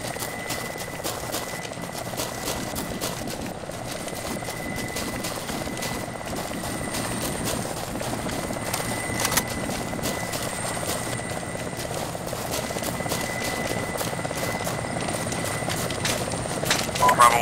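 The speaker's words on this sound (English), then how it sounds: "our chopper's picking us up here" A military helicopter in the Arma 2 video game drones steadily with a constant rotor chop and whine throughout, close and loud, while faint voices talk over radio underneath.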